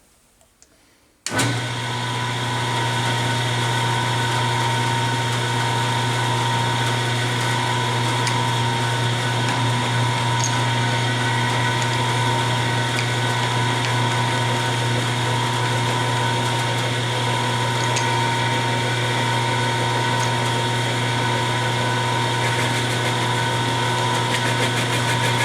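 A milling machine runs a 1.25 inch high-speed steel shell mill through metal, a loud, steady droning whine with a constant hum underneath that starts abruptly after a brief quiet moment and holds unchanged throughout.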